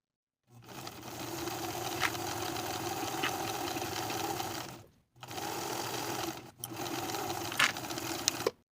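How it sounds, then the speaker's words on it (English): A sewing machine stitches raglan sleeves onto pajama front pieces at a 5/8 inch seam, humming in two long close bursts with a brief pause between them and faint clicks on top. "Now I'll sew both sleeves in place to the front pieces with a 5/8 inch seam allowance"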